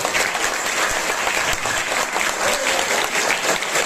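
A school audience claps loudly and continuously during a Marathi Language Day programme, dense applause filling the hall throughout without a break.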